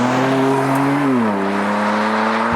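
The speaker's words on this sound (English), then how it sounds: "you can even hear the exhaust better in the summer when you open it up" A BMW M2 Competition sports car engine drones steadily with a deep, throaty exhaust note that dips in pitch briefly, loud and close, with no talking.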